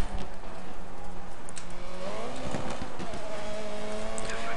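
Racing car engine in the DiRT 3 driving game, revving high and straining near its limit with rising, sweeping pitch, loud and continuous over a steady background of road and game noise.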